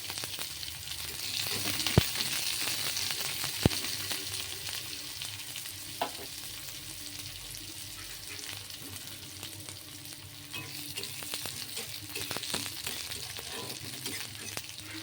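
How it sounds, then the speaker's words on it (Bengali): Whole cumin and a dry red chilli frying in hot mustard oil give a steady, close sizzle across the whole stretch, with a few sharp ticks and light stirring scrapes. "এই সর্ষের তেল দিয়েছি। সর্ষের তেলেই এটা করবেন, সর্ষের তেলেই গন্ধে ভালো লাগবে। একটু গোটা জিরে, একটা শুকনো লঙ্কা ফোড়নে দিলাম।"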